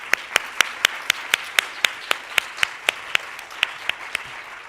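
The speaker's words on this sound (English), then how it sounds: "We can give them a round of applause." Audience at a photography congress claps in slow, evenly spaced unison, about twenty sharp rhythmic claps in a steady beat over a quiet room, moderately loud.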